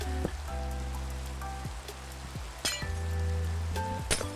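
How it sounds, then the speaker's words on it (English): Minecraft rain falls steadily as a soft hiss throughout, with a few sharp glassy clinks and thuds from gameplay scattered over it and no speech. "Rain be gone."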